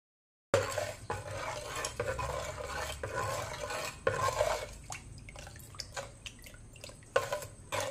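Ground masala with onion, salt, green chili and ginger is stirred in a pot, giving repeated wet scraping and clinking strokes of a spoon against the vessel, close and alone.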